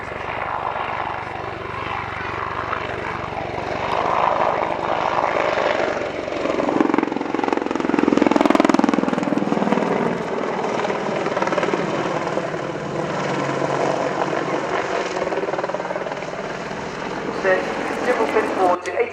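At the RIAT Fairford airshow, a military aircraft pulls through a 270-degree wingover, its engine and rotor-like throb swelling to a loud peak midway and then easing, under a commentator's steady public-address voice.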